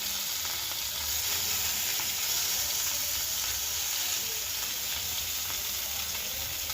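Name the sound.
Rohu fish frying in hot oil on a tawa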